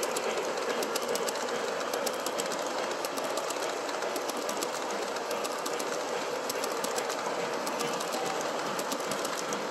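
A Cab Forward model train runs steadily through a double crossover switch, giving a continuous whirring motor drone with rapid clicking from the wheels over the rail joints, close and unbroken throughout.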